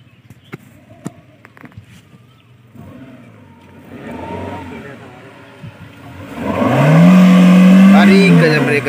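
A modified 2023 Suzuki Eeco van engine revs hard on a dusty road, building from a low idle to a loud, rising roar near the end, with someone talking excitedly over it.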